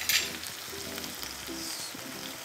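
Onions and tomatoes sautéing with salt in a pan, a steady close sizzle with a few soft stirring scrapes, and no voices.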